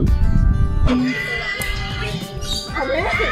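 Horse neighing at Hua Hin zoo, a short whinny rising over busy outdoor background noise with children's and adult voices talking nearby.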